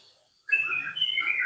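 A white-rumped shama (murai batu) kept as a competition songbird bursts into loud, continuous whistled song after a brief quiet start, with rich tonal phrases heard close up.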